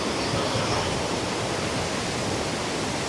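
The Cauvery River at Hogenakkal rushes in a powerful, steady roar of churning water near its falls, a dense unbroken wash of sound with no voices.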